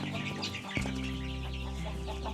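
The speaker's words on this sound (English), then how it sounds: "So we have the chicks that we hatched" Chicks in a barn brooder, a steady dense chorus of high peeping and cheeping, close and fairly loud over a constant low hum.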